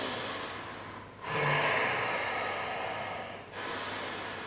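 Deep, slow breathing during a power yoga flow: a long audible inhale and exhale, close and airy, repeated twice with a short pause between breaths.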